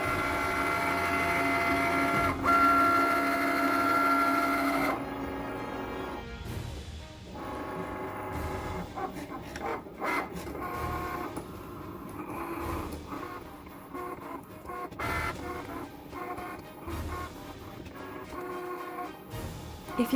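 A Cricut Maker cutting machine cuts freezer paper, giving a faint mechanical whir with rapid ticking and stuttering carriage movements that start and stop irregularly close by.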